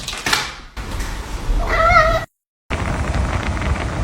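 A cat lets out one short, clear meow midway through, with rustling room noise around it and a brief silent gap after.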